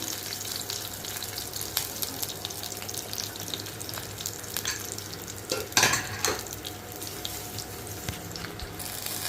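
Cumin, mustard seeds, dry chillies and curry leaves frying in hot oil as a tempering for an Andhra-style hyacinth bean curry, a dense close sizzle with one loud spitting burst midway, no voices.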